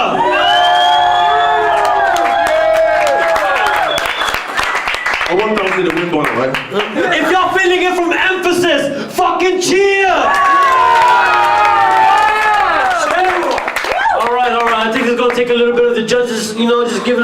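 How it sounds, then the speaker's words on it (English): A crowd at a Sydney battle rap event cheers loudly, with shouted whoops, yells and hollers rising and falling in overlapping bursts, close and raucous with a little clapping mixed in. "If you're feeling it from Dolzy, fucking cheer"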